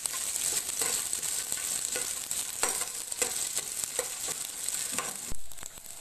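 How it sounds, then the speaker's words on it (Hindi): Paneer fries in a kadai with a steady, close crackling sizzle, broken by scraping stirs of a spoon against the pan. "फ्राई करेंगे।"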